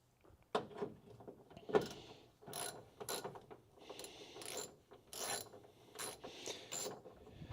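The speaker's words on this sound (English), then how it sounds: "I will go back to using the regular ratchet" A regular ratchet wrench clicks in short bursts of rapid pawl ratcheting while loosening a stud on a Charger crew cab build, close and fairly quiet with brief pauses between strokes.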